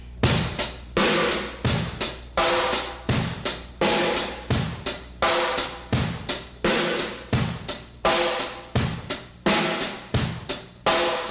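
A funky drum groove played alone, crisp repeated hits alternating between two distinct drum tones in a steady, tight rhythm, close and loud.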